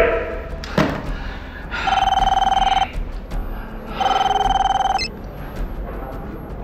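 A landline telephone rings twice with an incoming call, two sustained electronic trilling bursts separated by a pause, loud and close, preceded by a thump, with brief background noise between rings.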